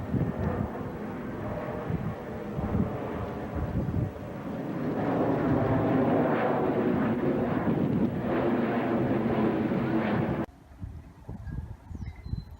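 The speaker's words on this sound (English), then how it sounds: "Nathan, the stealth bomber." A stealth bomber flying overhead, a broad roaring drone that swells and holds loud for several seconds with wind buffeting the microphone, then cuts off abruptly near the end, leaving quieter outdoor background.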